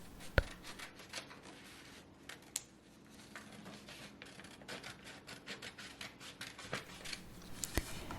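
Scissors cut out paper pictures in a quiet home setting, giving soft, rapid snipping and rustling strokes in a loose rhythm, close but faint, with a sharper click or two along the way.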